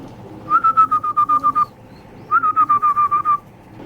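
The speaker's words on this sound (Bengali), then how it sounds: "এই দুইটা কিন্তু পাঙ্কি কবুতর বাচ্চা" Punky pigeon chicks give two bursts of rapid, high, whistle-like peeping, about eight evenly spaced notes in each, with a short pause between them. The calls are close and clear over a low background hum.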